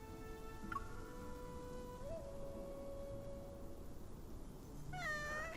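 A cat meows in the video game Love & DeepSpace, giving a few brief, faint mews spread over a steady, soft backdrop of sustained tones.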